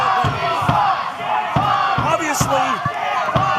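Live wrestling crowd in an arena chanting in rhythmic bursts, loud shouted group calls with sharp slams from the ring between them, and a commentator's voice running over the top.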